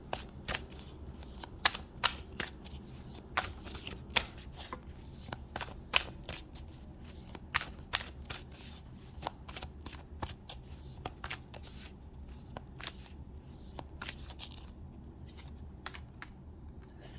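Tarot cards being shuffled by hand at close range, a rapid series of crisp riffling flicks and slaps repeating irregularly over a soft steady room background, with no talking.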